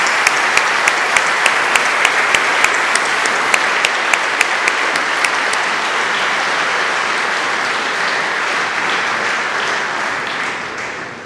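A large audience applauds at a municipal ceremony in Domžale, loud sustained clapping filling the hall with sharper individual claps punctuating the first half before the ovation gradually tapers off.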